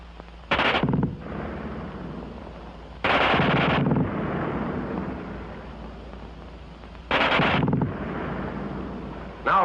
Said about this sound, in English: who can't get over the fast burp of that German gun